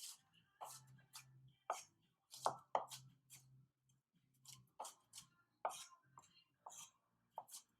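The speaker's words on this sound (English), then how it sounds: "I'm going to run my knife through this, rough chop real quick" Knife rough-chopping lamb gyro ingredients toward a fine mince on a board, irregular quick taps and thuds in short bursts, close and fairly quiet, with no voice.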